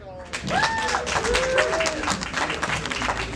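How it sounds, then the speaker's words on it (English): A festival crowd at a poetry stage applauds beatboxer Testament, clapping running through the moment while people talk and voices rise over it. "Please give a round of applause one more time for Testament."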